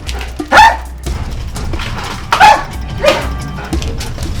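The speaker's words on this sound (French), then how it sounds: "Falco, un chien renifleur de billets." Falco, a gendarmerie dog trained to sniff out banknotes, lets out a few sharp, close barks spaced over several seconds, with quieter movement noise in between.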